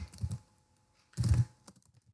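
Keys clatter on a computer keyboard while entering data into Excel, two short bursts of quick close typing separated by a pause, with a few lighter taps trailing off.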